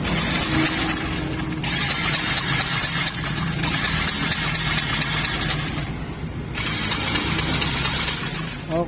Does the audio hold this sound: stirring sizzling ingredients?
no